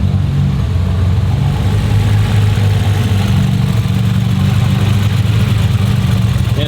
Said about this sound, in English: And the motor sounds super healthy.